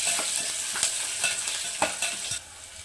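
Chopped onions fry and sizzle in a pan for cabbage curry, a steady broadband hiss with occasional louder crackles and stirring scrapes, close and continuous with no voices.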